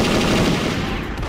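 Rapid bursts of video-game gunfire in Perfect Dark's Area 51 escape level, loud and dense with a steady roar and no talk over it.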